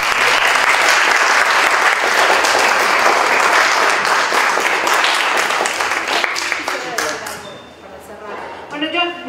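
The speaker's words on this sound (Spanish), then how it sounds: "Vamos a darle un aplauso." An audience at an academic lecture breaks into sustained applause, dense and steady for most of its length before thinning out and fading near the end, with a faint voice underneath as it dies away.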